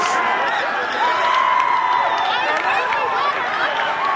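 Spectators at a Sharman Cup rugby semi-final between Otara and Ponsonby keep up a steady, loud roar of shouting and cheering, a dense wash of many voices with no pause.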